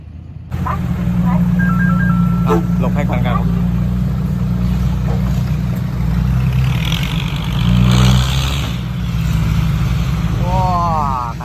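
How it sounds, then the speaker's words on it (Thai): A heavy tractor engine drones steadily and close for the whole stretch, rumbling low and swelling slightly midway as it approaches, with faint voices and clatter around it. "ได้ยินรถไถมาแน่นอนครับ"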